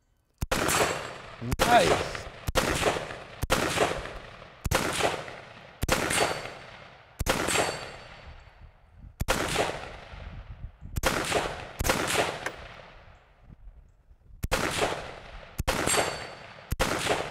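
Rifle shots ring out at a steel Texas Star target outdoors, about a dozen loud sharp reports in an uneven rhythm, each with a ringing tail and echo, with a brief spoken remark in between.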